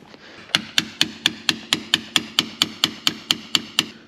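Steady, evenly spaced taps of a small rubber-tipped hammer on brass, about fifteen sharp blows in a row at a brisk rhythm, close and clear.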